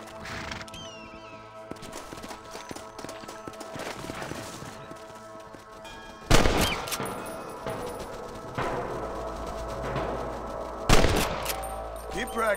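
Gunshots ring out during a shooting contest in Red Dead Redemption, with sharp scattered reports over faint horse hooves and ambient noise, two of the shots landing louder and closer than the rest.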